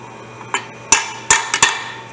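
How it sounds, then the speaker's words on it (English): A soft hammer knocks the bull gear shaft out of a Bridgeport mill's step-pulley head with five sharp, close metallic blows, a faint one followed by four louder strikes in uneven rhythm. "get a soft hammer. Off camera, we're gonna knock this out."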